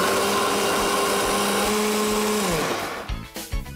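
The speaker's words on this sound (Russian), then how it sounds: "Пробьем в другом блендере овсяную муку" A blender grinding oat flakes into flour whirs loudly at steady high speed, then winds down and stops, leaving a few faint clunks and rustles at the end.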